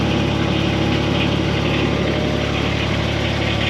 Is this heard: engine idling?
yes